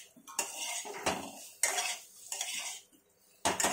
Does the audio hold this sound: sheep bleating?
no